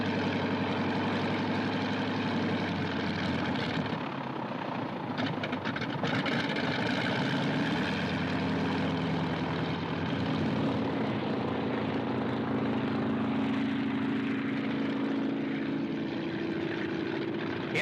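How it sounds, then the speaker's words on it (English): A cold engine on a World War II propeller plane idles before takeoff, a continuous loud droning rumble that holds steady throughout with slight shifts in pitch. "Hear that engine? Colder than a Russian winter."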